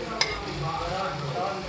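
Chopped tomatoes fry in a pan for chicken curry, giving a close, continuous sizzle and hiss with one brief clink of a utensil near the start, no speech.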